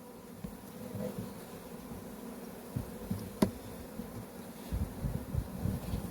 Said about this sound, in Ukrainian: Ось така кількість бджіл на даній рамці.